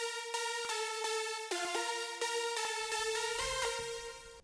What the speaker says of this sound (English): And if I'm turning on my OTT